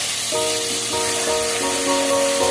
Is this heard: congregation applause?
no